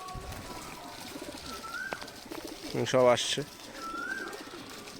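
Domestic pigeons gathering for food give a short, clear burst of cooing near the middle, with faint chirps around it and a person speaking softly nearby.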